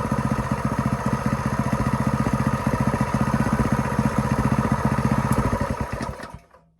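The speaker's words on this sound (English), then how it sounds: "So it's running rough, but it runs" An Ironton 208cc small engine runs rough with a steady, loud, rapid firing beat that stumbles now and then, close by, before cutting out and fading at the end.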